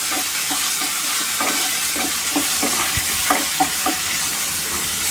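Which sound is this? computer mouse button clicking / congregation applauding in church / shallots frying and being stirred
shallots frying and being stirred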